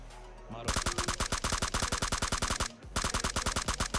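Rapid automatic gunfire in the shooter game PUBG Mobile, two dense bursts of evenly spaced loud shots separated by a brief pause, close and dominant.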